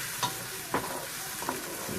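Onions browning in a pan for lamb curry give a steady low sizzle, with three soft utensil scrapes spaced about half a second apart.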